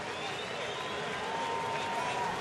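A baseball crowd in Atlanta, at a June 2013 Diamondbacks at Braves game, roars steadily as Martin Prado comes to the plate, a dense, constant wash of cheering and applause with a faint tone running through it.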